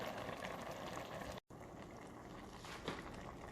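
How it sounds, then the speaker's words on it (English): Kimchi stew with tofu bubbles in a Magic Chef multi-cooker, a faint, steady simmering burble with a momentary dropout, heard alone without talking. "You can see it's boiling really nicely."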